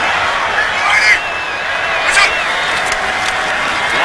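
Stadium crowd at an Oakland Raiders home game against the Chargers in 2016, a dense continuous roar of thousands of fans with swelling cheers and whistles, heard close and loud.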